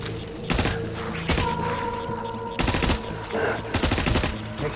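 Bursts of rapid gunfire crackle through a firefight in Death Stranding, several loud volleys of shots separated by short gaps, with faint metallic clinks and thuds between them.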